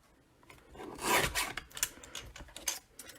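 A paper trimmer blade slices diagonally through a piece of cardstock, giving a close, quiet scraping rasp in a few uneven strokes over about three seconds.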